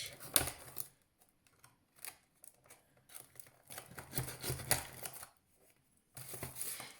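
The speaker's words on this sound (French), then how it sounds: "On enlève le scotch." Sticky tape is peeled off a parcel, heard as quiet, close crackling rips and scratchy tearing in short irregular bursts with pauses between them.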